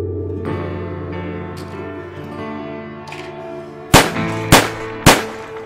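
Three sharp, loud gunshots ring out in quick succession near the end, each with a ringing tail, following a stretch of tonal background music.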